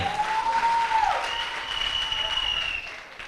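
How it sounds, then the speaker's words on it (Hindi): An audience at a dance workshop grand finale event in Surat applauds, a steady wash of clapping that holds throughout and tapers toward the end, with a faint tone sliding over it. "जोरदार तालियां इनके लिए भी"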